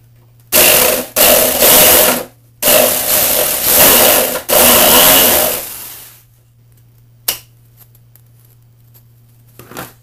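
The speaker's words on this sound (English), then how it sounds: "you're going to need a jigsaw. You're just going to take it and cut a notch big enough for your piece of wood to fit into" Jigsaw cutting a notch into a wooden sword handle: four loud bursts of sawing in close succession, each lasting about one to two seconds, then quiet with a couple of faint taps.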